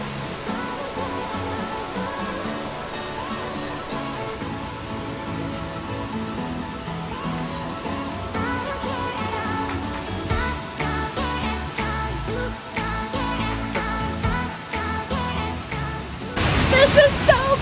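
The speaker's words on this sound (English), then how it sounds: "That's such a tall waterfall." A tall waterfall in the Balinese jungle pours with a steady broadband rush throughout, swelling louder near the end, while people talk over it.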